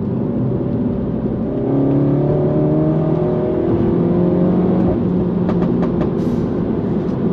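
Mini Cooper S F56 engine and exhaust pulling hard under acceleration, a loud, steady close-up drone with rising engine tones and no talking.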